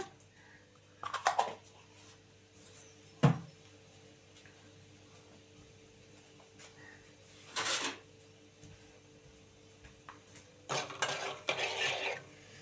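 Mustard seeds and cumin are stirred in a pan with a few scattered scrapes and clinks of a spoon against metal, separated by quiet gaps, close but faint.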